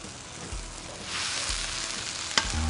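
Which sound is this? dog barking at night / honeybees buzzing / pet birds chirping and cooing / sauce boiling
sauce boiling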